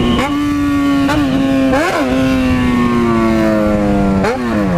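A Yamaha XJ6 N motorcycle engine revs hard and loud up close, climbing in pitch with several sharp throttle blips and drops, then holding a high steady whine before a final rev near the end.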